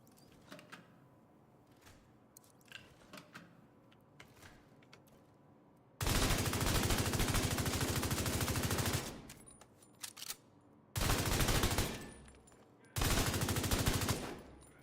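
Video game gunfire while shooting at armor, with quiet scattered clicks and taps at first, then three long, loud sustained bursts of rapid automatic fire separated by short pauses.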